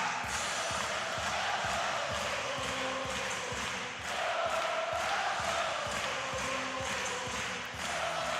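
Sellout arena crowd at the men's volleyball World Championship 2018 gold medal match between Brazil and Poland, a dense, continuous roar of cheering and chanting with rhythmic thumping, steady and loud throughout.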